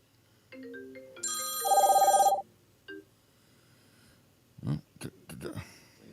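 An incoming call rings on a phone as a loud electronic ringtone with layered tones, followed by a few short throaty noises and murmurs.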